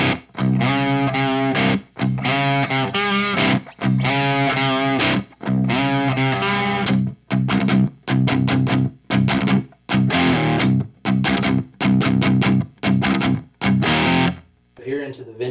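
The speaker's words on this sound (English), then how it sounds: "Now for your green mode on the crunch channel, number two, this is supposed to be more along the lines of the plexi type of sound." An electric guitar plays through a Marshall JVM 410H amp on the green mode of the crunch channel, giving a loud, plexi-style overdriven tone in rhythmic strummed chords with short gaps between them.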